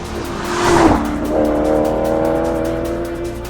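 A car's engine roars loudly in race mode, rising in pitch as it accelerates with a brief tire squeal near the start, then holding a strong, buzzy drone close by.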